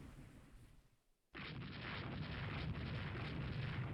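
Naval gunfire and shell hits in the Rule the Waves 3 warship game: after a brief quiet lull, a sudden heavy blast bursts in and keeps rumbling on in a low, sustained roar, fairly faint overall.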